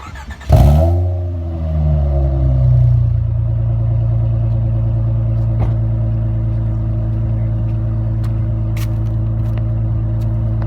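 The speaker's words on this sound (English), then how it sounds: "Sorry guys for the terrible video quality on the exhaust, but my neighbors were already complaining about me revving it" A Honda Accord 3.0 V6 fitted with a DNA catback exhaust gives one sharp throttle blip up front. The deep, throaty engine note then settles into a steady low drone for the rest of the stretch.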